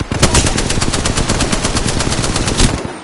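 Automatic weapon fire in the Apex Legends video game: a loud, close, rapid burst of shots that lasts about three seconds.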